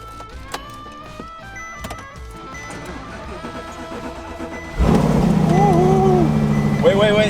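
A car engine idles quietly at first, then its exhaust suddenly turns much louder and rumbles steadily, with a few revs rising and falling near the end.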